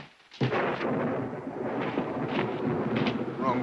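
Storm thunder rolls in after a short silence, a loud sustained rumble with cracking swells that keeps going to the end.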